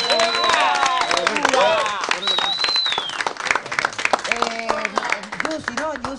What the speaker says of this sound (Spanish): Un fuerte aplauso de verdad para ellos